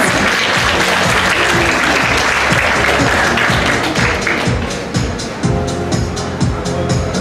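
Sustained applause from an audience at a fashion show in a shopping mall, dense steady clapping filling the whole stretch, loud and close, with a slight dip near the end.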